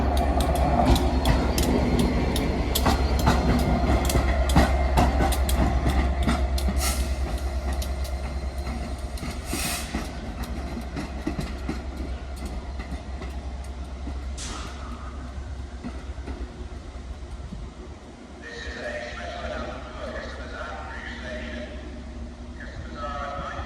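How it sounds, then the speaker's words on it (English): Class 67 light locomotive 67008 runs through Crewe station alone, a steady loud rumble of engine and wheels filling the scene before easing off toward the end, with voices in the background. "we have a light locomotive going through. 67008."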